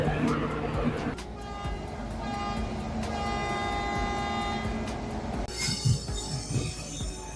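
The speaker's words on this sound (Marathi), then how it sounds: "तर तुम्ही ट्रेन बघू शकता" Paschim Express passenger train at Bandra station, with a steady rumble of rolling stock, metallic tonal squeals and a horn-like toot rising over the din. People talk intermittently under the continuous rail noise.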